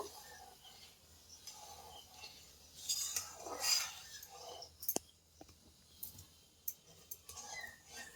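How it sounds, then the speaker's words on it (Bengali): A spoon clinks and scrapes against a wok (kadai) as sugar is stirred into water for ripe guava jelly. The taps and clicks are quiet and irregular, with a brief louder scrape midway and no talking. "চিনিটাও দিয়ে দিচ্ছি খুব ভালোভাবে এটাকে নাড়িয়ে নাড়িয়ে মিশিয়ে নেব"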